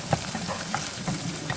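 Finely chopped onion added to garlic in a hot pan, frying with a steady close sizzle and faint stirring scrapes throughout.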